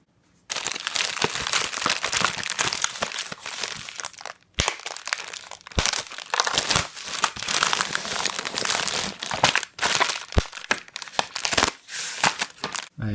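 Plastic packaging from a Beyblade Burst Super Z Triple Booster Set crinkled and handled up close, loud dense crackling with brief pauses and a few sharp snaps.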